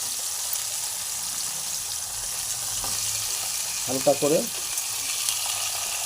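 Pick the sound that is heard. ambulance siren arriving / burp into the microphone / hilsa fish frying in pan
hilsa fish frying in pan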